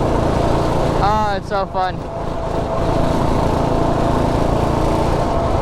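A go-kart with a Predator 212 Ghost engine runs with a loud, steady motor drone close by, while a person speaks briefly over it.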